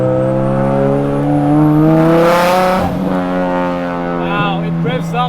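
A big turbo 2.35L stroker SR23 Nissan S15 Silvia engine revs hard and climbs quickly, a loud droning tone rising then falling back, with turbo whistle and chatter, heard close from inside the car.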